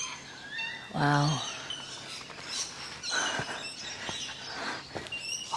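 Loud bird calls and chirps ring out along a riverside walking track, with a sharp call near the start and scattered tweets after it, while a person briefly exclaims.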